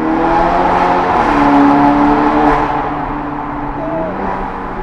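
A SEAT Ibiza Cupra (Stage 2 tuned, 230 HP) engine droning and rising in pitch as it accelerates, heard from inside, steady and fairly loud with a slight shift near the end.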